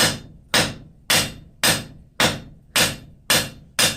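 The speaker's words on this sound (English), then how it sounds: "I'm just going to work this out on the flat of the anvil" A hammer strikes forged pickup tongs on the flat face of an anvil, eight sharp ringing blows at an even, unhurried rhythm, each decaying before the next, close and alone.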